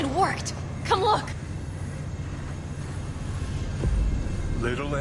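A train engine in the Cyberpunk 2077 video game gives a steady low rumble and mechanical drone throughout, while characters speak over it.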